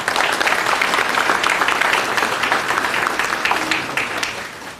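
An audience at a high school Hall of Fame ceremony gives a round of applause, dense and loud clapping from a large crowd that carries steadily throughout and tapers slightly at the close.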